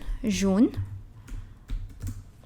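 A computer keyboard is typed on in short bursts of clicks, spaced keystrokes close up after a brief voice at the start.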